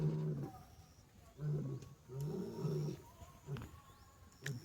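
A lion roars in a jungle, repeated deep rumbling roars rising and fading at a distance, with faint bird calls in the background and no talking.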